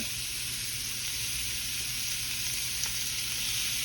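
Hamburger patties sizzle loudly and steadily in a grill pan, a dense, even frying hiss close by with no talking over it.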